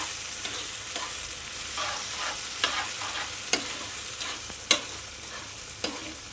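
Noodles are stirred in a pan over a soft frying hiss, with a spatula scraping and tapping at irregular moments, a few sharper knocks standing out, close and fairly quiet.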